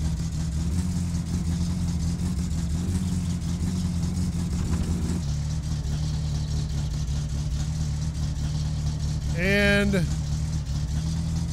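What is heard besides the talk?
car engine running in My Summer Car video game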